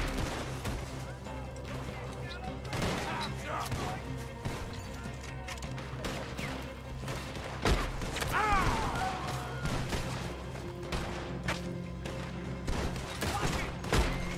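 Gunfire in the Western video game Red Dead Redemption 2: repeated sharp shots and booming volleys in quick bursts across the whole stretch, loud and close, mixed with game ambience and someone talking now and then.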